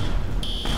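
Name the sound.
fire alarm beeping in video game Teardown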